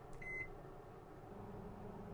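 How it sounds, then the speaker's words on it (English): An old microwave oven running with a low, steady hum, preceded by a short beep as it starts, with the drone continuing evenly throughout. "Turn the microwave on. It's an old beast, this thing"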